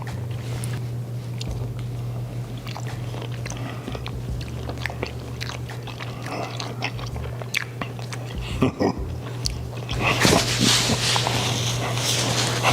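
Chewing and biting sounds of someone eating spoonfuls of Creole shrimp stew with tomato, soft wet mouth noises over a steady low hum, a few louder crunchy bites near the end.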